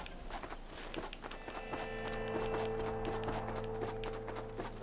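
Horse hooves clip-clop at a steady walking rhythm in the video game Red Dead Redemption, close and clear over a low ambient hum.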